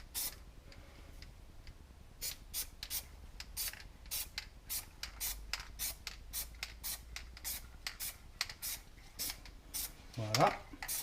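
Spray paint cans fill a stencil in short hissing bursts, repeated irregularly over and over at close range, with a few rattles and handling noises and a brief clatter near the end.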